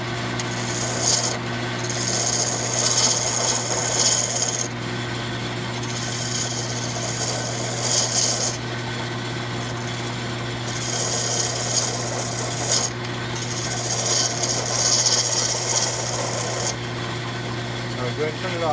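A wood lathe turns a piece of wood, its hum joined by a loud, steady scraping rasp that comes in long repeated passes with short breaks between, close and continuous.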